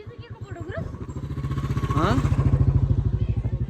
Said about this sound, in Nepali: बाइक आयो